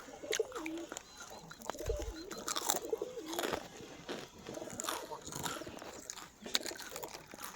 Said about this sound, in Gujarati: જો કબૂતર કેવા રમે હે